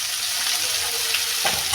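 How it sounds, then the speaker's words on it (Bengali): Prawns sizzle steadily in hot oil in a wok, with salt and turmeric added. The frying is close and continuous, with a stir or scrape near the end. "দিয়ে ভালো করে ভেজে নেবো বন্ধুরা।"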